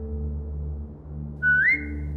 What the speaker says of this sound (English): Now whistle and tell her to lie down.